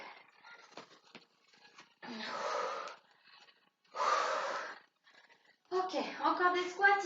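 Heavy breathing during a workout recovery break, three or four long forceful exhales through the mouth separated by quieter breaths, close to the microphone, with a voice starting to speak at the end.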